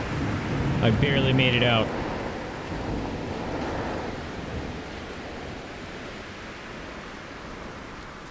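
Thunderstorm with steady rain-like rushing noise in the video game No Man's Sky, a broad continuous roar that swells early and then settles, with a person talking briefly over it near the start.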